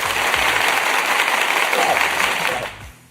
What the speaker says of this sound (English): Let me get some applause